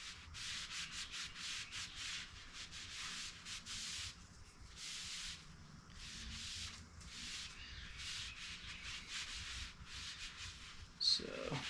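A napkin soaked in oil finish is rubbed over a wooden Comanche short bow in steady back-and-forth strokes, a close, even swishing with brief pauses and no talk.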